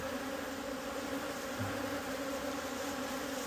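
Honeybees hum steadily throughout a hive inspection at an apiary while smoke is applied, a continuous close-up drone with no talk over it.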